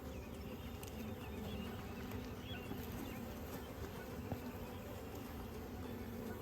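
Honey bees buzzing around a pulled hive frame, a dense, steady drone that stays close and continuous throughout.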